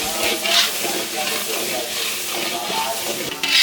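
Ground spices (turmeric, chili, coriander and cumin powder with salt) and potatoes fry in a pan, giving a steady close sizzle and hiss with stirring scrapes.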